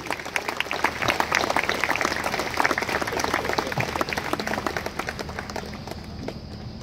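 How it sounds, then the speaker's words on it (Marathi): An audience claps steadily through a live Diwali morning concert of Hindi and Marathi songs, a dense, loud and continuous roar of many hands for several seconds with no talk over it. "टाळ्या जर अजून जोरात आल्या तर आम्हाला सगळ्यांना आनंद होईल"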